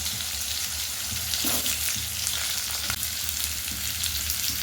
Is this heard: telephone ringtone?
no